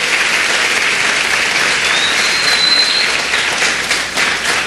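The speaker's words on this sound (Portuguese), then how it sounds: "Dê uma salva de palmas ao nome de Jesus" A church congregation at an Assembleia de Deus service applauds together, a dense, steady wash of clapping from many hands that holds loud and even throughout, with no talking over it.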